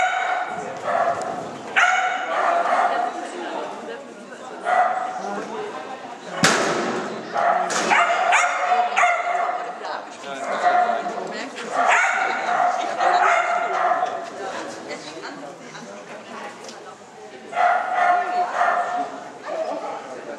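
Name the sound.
dog barking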